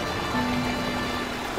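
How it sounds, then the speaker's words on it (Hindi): Heavy rain pours down in a cartoon jungle, a dense, loud, continuous hiss of falling water with a faint steady tone underneath and no talking. "बारिश बहुत ज्यादा तेज थी।"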